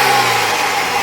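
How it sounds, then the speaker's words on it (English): A 2016 BMW X3's turbocharged six-cylinder engine revs loudly and close by, a sustained throaty roar that fills the short moment without any talking. "So, let's have Trish give it a little bit of revving."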